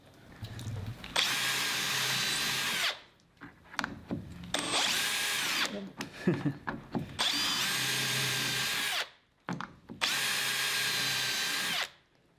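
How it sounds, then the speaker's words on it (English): A power drill fitted with a spring-loaded, self-centering conical bit bores hinge screw holes in a garden shed door, with four loud, sustained whining bursts of a few seconds each, separated by brief pauses and rattly handling noises. "It has a spring-loaded shaft with the drill bit in the center, and it's kind of conical, so it centers itself in the hinge screw hole."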